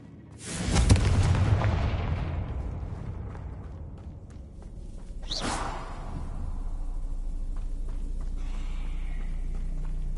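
A Confringo blasting spell in Hogwarts Legacy on PS5 goes off with a loud whooshing boom near the start, then a second sharp burst about five seconds later before the sound settles into a steady low rumble.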